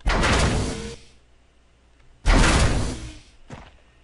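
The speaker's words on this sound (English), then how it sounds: "When I leave that box, the close sound plays." A game door slides shut with a loud whoosh, followed after a pause by another heavy swoosh and a short final thud.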